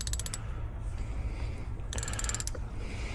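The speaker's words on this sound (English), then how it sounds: "And okay, ratchet back, loosen some more." A ratchet clicks in two quick bursts while loosening a bolt during an oil change on a BMW E60 535i N54, close and crisp over a low background hum.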